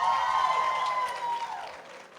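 Audience applause at an awards dinner for Arlington ISD honorees, a steady wash of many hands clapping at close range that fades gently toward the end.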